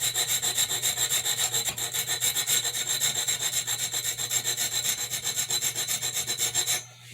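An 8-inch KitchenAid chef knife is drawn over a sharpening stone in quick, even rubbing strokes, a close gritty scrape repeating steadily for about seven seconds before stopping, with no voices.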